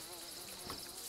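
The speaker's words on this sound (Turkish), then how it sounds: "burada fızıltıyor sinek" A fly buzzes in the DayZ video game, a faint, steady insect drone heard close by over quiet game ambience, with no talk.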